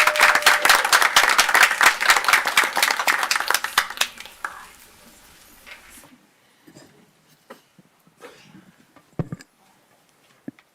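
Audience applause at a city commission meeting in Muskegon, a dense burst of clapping for several seconds that thins out and fades, leaving a quiet room with scattered small knocks and rustles.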